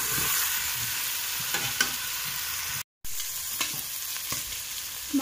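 Rice with spices frying in a pot for mutton pulao, a steady close sizzle with occasional stirring clicks and a brief dropout midway.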